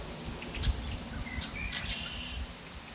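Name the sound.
birds chirping outdoors on a fall day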